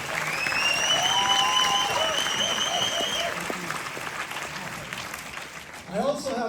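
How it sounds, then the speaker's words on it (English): Sustained applause from a film premiere audience fills the room, dense clapping throughout with a few whoops and a voice rising near the end. "So please give yourselves another big round of applause for being here."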